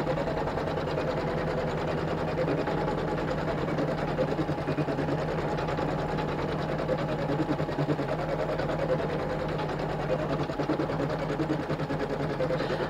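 Sewing machine running continuously while free-motion quilting, a dense, even rapid stitching chatter with a steady motor hum, close and unbroken throughout, with no voices.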